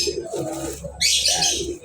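A pigeon coos softly in a short burst, with a brighter chirpy call joining halfway through over low background noise.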